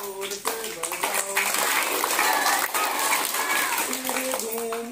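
Children in a classroom activity clap their hands loudly in repeated bursts between stomping and turning, while a teacher's voice and chanting run over the clapping throughout.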